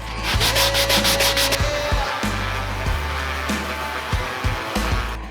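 Cut wood pieces for a loft bed frame being sanded by hand, repeated rubbing strokes in an uneven rhythm, close and fairly loud, with no voices.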